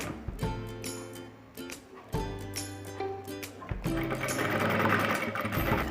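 A sewing machine runs in short bursts, close up, stitching elastic onto a kids' face mask. Each bout of rapid mechanical chatter is broken by brief pauses, and the last run is longer and steadier.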